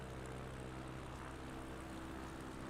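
A propeller airplane in a flight simulator game drones on steadily during a landing approach with flaps down, a faint continuous engine hum with low tonal bands and no break.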